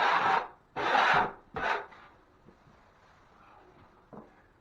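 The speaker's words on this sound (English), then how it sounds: "I also like to scrape past the patch area if there's any goobers, so when I mud, the goobers don't get in the way and mess up my coating." A scraper drags across a drywall patch area in three loud, rasping strokes near the start, followed by quieter faint scuffs and a brief final scrape.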